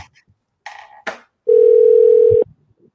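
A single loud, steady telephone ringback tone of about one second, heard while a call is being placed. A few short clicks and rustles come before it.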